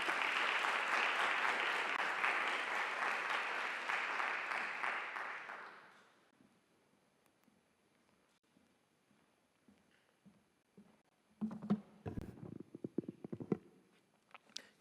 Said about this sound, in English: Give him a round of applause. Please clap.